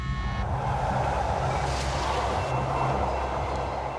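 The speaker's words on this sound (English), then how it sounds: "these monitors showing supposedly live shots of actual trains from different tracks all around the California area" Trains run along tracks around California, heard as a steady low rumble with a mechanical hum and faint wheel noise, continuous and moderately loud with no voices.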